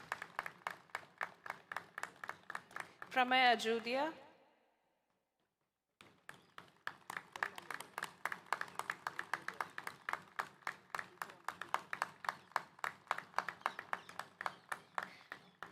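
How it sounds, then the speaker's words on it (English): Audience at a convocation ceremony clapping in a steady, even rhythm that runs through most of the stretch, broken by a short full silence. A voice announces a name over the clapping just before the pause. "Please, everybody clap."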